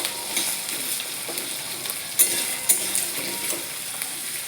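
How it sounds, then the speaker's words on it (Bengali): Potatoes and onions fry with a steady, close sizzle in a pan, broken by a few sharp scrapes and clinks of a stirring utensil. "আলুগুলো দিয়ে পেঁয়াজের সঙ্গে কিছুক্ষণ ভেজে নেব"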